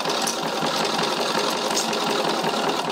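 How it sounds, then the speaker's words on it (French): A sewing machine runs steadily through a straight stitch on a lining pocket for a zipped pouch. The motor whirs close and continuously with a fast even rattle and no talk. "donc je fais ma couture au point droit"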